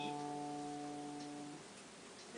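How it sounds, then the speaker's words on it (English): Electric guitar's fourth string, tuned to D, rings as a single sustained note that cuts off after about a second and a half, quiet and unaccompanied. "Your fourth string"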